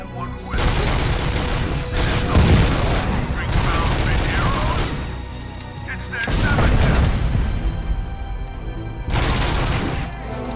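Gunfire from the video game RoboCop: Rogue City, with loud, dense bursts of shots and explosions coming in several waves, mixed with game sound effects throughout.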